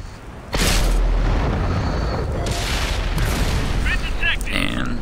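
A Rhm.-Borsig tank destroyer in World of Tanks fires its gun with a loud, sudden boom that rolls into a sustained rumble, followed by faint mechanical clinks near the end.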